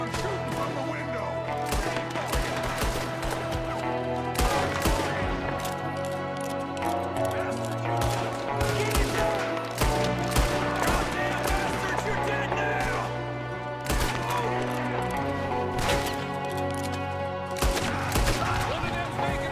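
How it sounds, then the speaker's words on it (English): Gunfire from a window in Red Dead Redemption 2, repeated sharp shots scattered through a dense, busy game mix of music and effects, with voices talking over it. "there's another one shooting from the window"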